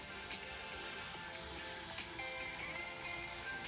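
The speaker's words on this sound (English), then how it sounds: "we are going to spray it with our mister" A spray bottle mister wets a section of natural hair during a clip-in install, giving a close, continuous breathy hiss of fine water spray with slight pulses, no talking.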